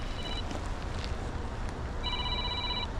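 A phone ringtone chirps in two bursts, a short one at the start and a longer one near the end, over steady wind-like background noise.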